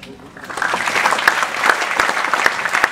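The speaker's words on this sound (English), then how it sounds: "a warm round of applause for our Joint Young Achiever 2010, Miss Achala Pani" A warm round of audience applause for a Young Achiever Award 2010 presentation, dense steady clapping that swells in and holds loud throughout, with scattered sharper individual claps.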